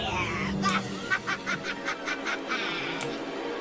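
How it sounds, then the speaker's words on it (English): A voice run through a voice changer during Minecraft hardcore play comes out as a string of about six quick, honking, goose-like bursts, moderately loud over a steady background. "That is the sound of a voice This changer."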